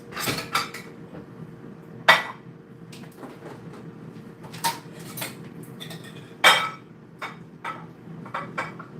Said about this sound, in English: let me move my macaroni real quick